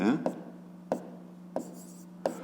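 Chalk or pen taps out numbers during a fifth-grade math lesson on greatest common divisors, giving four or five short sharp strokes spaced evenly about two-thirds of a second apart over a low steady hum.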